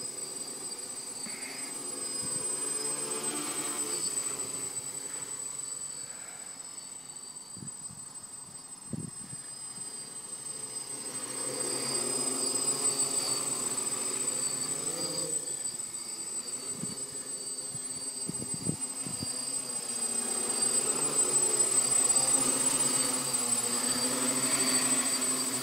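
A DJI F550 hexacopter's six motors whine steadily at a distance, the buzzing pitch rising and falling as it flies, with a few soft bumps in between.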